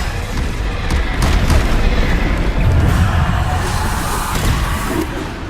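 Bombarda explosion spell cast in Hogwarts Legacy, a loud, booming blast that rumbles continuously with heavy low-end crackle through the whole stretch, with no voices over it.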